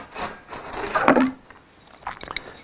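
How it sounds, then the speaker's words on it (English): A Yamaha MT-07/XSR700/Tracer 700 fork spring, tight windings at the top, drops into the fork tube with a brief rubbing scrape and a soft knock, followed by a few light metallic clicks. "So basically we just drop that into the tube now."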